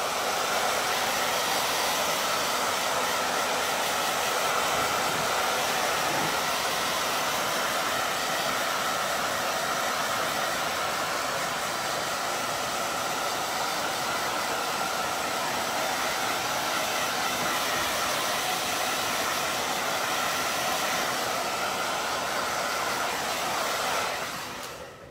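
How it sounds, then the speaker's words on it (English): A blow dryer dries wet paint on wooden pumpkin-wagon yard art, running as a steady, close, unbroken whir for the whole stretch before cutting off at the very end, with no talk. "I'm worried that that blow dryer might fling my paint out"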